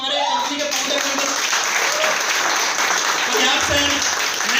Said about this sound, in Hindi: एक जबरदस्त क्लैपिंग